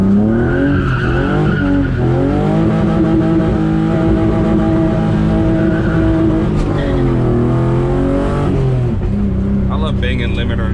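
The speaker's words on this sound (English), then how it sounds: "Banging limiter on the M50" A BMW E36 drift sedan with a welded diff and an M50 engine revs hard and bangs off the rev limiter. The loud, sustained, stuttering engine note rises and falls, and a voice can be heard beneath it.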